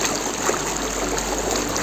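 River water flows steadily around bare feet dipped into a cold stream in Sangti Valley near Tawang. A close, even trickle and rush runs unbroken throughout, with no voices.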